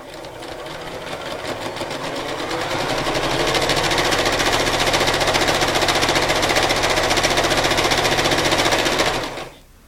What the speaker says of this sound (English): I'm going to sew directly over those lines